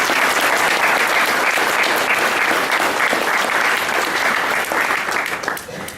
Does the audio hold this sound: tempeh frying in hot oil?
no